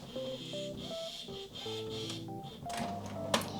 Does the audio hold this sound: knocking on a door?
no